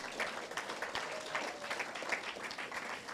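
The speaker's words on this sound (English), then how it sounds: "So I think that alone deserves a very big round of applause." Audience applause for finalists at a primary school quiz competition, a lively, irregular patter of many hands clapping at moderate volume throughout, with a faint voice buried underneath.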